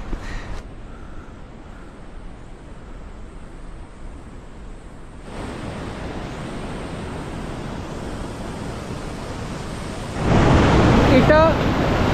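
The Bhyundar Ganga river rushes in a steady broadband roar in the Valley of Flowers, with wind buffeting the microphone, growing louder toward the end.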